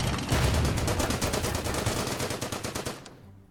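Rapid bursts of gunfire ring out as Belgian bunkers come under attack in the Strategic Command WW2 war game, a dense, loud rattle of shots in quick succession that fades out at the end.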